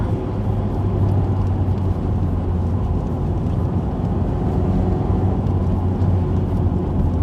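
A 1990 Toyota MR2 Mk2 SW20 with a new exhaust is driven on a road test, with a steady, loud engine and road drone that stays constant from start to finish and no voices.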